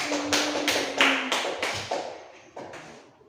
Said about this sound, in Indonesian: Oke, tepuk tangan kita semua.